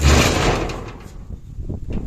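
A house's main door swings open with a loud, rushing whoosh of air at the start that fades into quieter room noise and faint rustles, heard close by.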